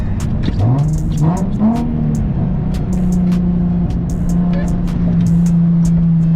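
A Nissan 350Z engine with a full single-exit exhaust revs and climbs in pitch as it accelerates in winter, loud and close from inside, then holds a steady droning note with road noise and faint voices underneath.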